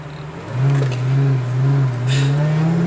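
A Honda Prelude engine revs hard and steadily, a loud sustained drone rising slightly in pitch over about two seconds, close by.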